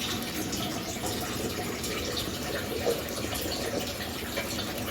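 Water poured into a thick spiced batter for fried fish, a steady close pouring and sloshing that runs evenly through the whole stretch with no talk.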